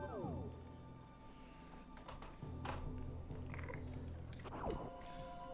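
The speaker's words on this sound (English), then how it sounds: "Yes, you're very cute, cat." A house cat gives a few faint meows and chirps, close to the microphone, under quiet game audio and some speech.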